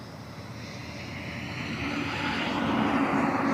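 A Boeing 737-700 airliner on approach to Cleveland Hopkins airport, its engine roar steady and broadband, swelling gradually louder as it nears, with no voices.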